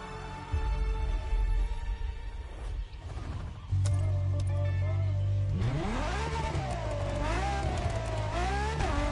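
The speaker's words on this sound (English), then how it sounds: "This was the F50, a sports car that screams performance and racing spirit with every fiber of its being." A Ferrari F50 sports car in The Crew Motorfest revs loudly, its engine note climbing and surging, dropping back, then rising again in a wavering, screaming tone.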